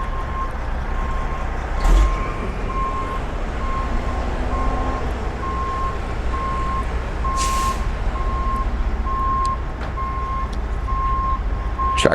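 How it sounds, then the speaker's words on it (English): A truck's reversing alarm beeps steadily in an even rhythm while barriers are set into place on the Las Vegas Strip, over constant street and traffic noise with a brief thump and a hiss partway through. "Truck barriers going into place."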